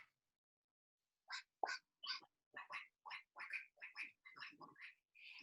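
A group of children and an instructor quack like ducks during a kids' yoga session themed on a park pond, a string of short nasal voice imitations in quick succession.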